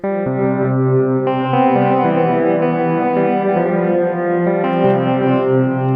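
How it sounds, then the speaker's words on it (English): A synth played through a Pladask Elektrisk Draume pedal with reverb, sustained chords changing every second or so, washed in dense, shimmering reverberation at a loud, steady level with no talking. "And the end is a reverb, so they're all going to sound pretty reverberated."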